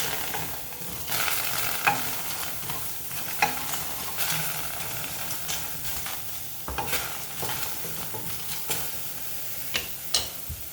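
Green chilies frying in a pan for a lunch dish, giving a steady crackling sizzle with occasional sharper pops and faint stirring clicks, close and continuous without any talk.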